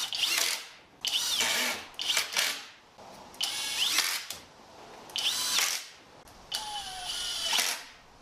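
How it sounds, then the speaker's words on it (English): Cordless power drill making pilot holes and driving screws into clamped wooden boards for a medieval-style pillory, several short whirring bursts with brief pauses and rising pitch sweeps, close and fairly loud. "drill some pilot holes, and put some screws"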